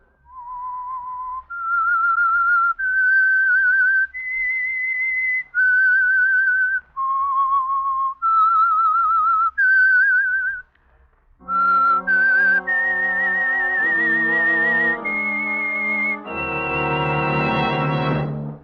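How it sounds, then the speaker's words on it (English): A clear whistled melody of sustained notes, a radio show's theme signal, first a single thin tone, then a fuller, richer whistle with harmonics carrying the tune to a held final note. "That whistle is your signal for the Signal Oil program"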